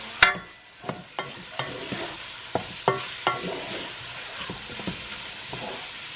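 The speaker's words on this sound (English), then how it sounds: "I'm going to saute these veggies for about a minute" Vegetables sauteing in a well-seasoned pot, soft steady sizzle under a series of sharp spoon clanks and scraping stirs against the pot, close and moderately loud, with no voices.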